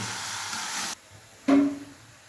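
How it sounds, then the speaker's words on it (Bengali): Potatoes and chicken frying together with spices in a pan, a steady bright sizzle that cuts out abruptly, then returns in a fresh burst of hissing, with no talking. "আলু আর মাংস একবারে এই মশলার সাথে খানিকক্ষণ ভেজে নেব"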